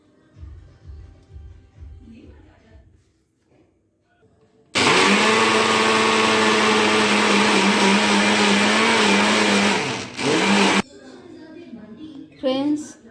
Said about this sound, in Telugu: ఇంకా ఇప్పుడైతే మిక్సీ పట్టేస్తున్నా.